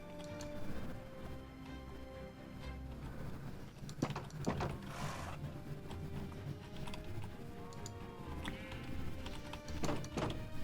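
Horse hooves clip-clop in a blocky sandbox video game, with steady light tapping steps running through a busy bed of game ambience and sharper clicks.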